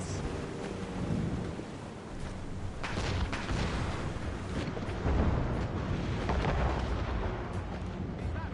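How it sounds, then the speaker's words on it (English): Ship cannons fire during a naval battle in the game Assassin's Creed Rogue, a continuous rumbling barrage of deep booms rolling over one another at close range, with no speech. "Enemy ahead! Ready cannons!"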